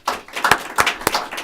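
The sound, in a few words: applause for the deputy administrative officer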